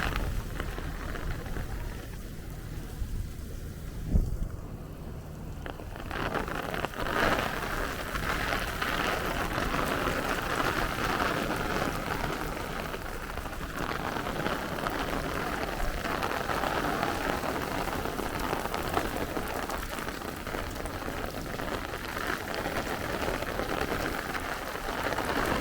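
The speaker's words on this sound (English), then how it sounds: "You see that rain?" Heavy rain falls steadily on a Brooklyn street in a dense, continuous hiss, with a brief thump near the start and no voices.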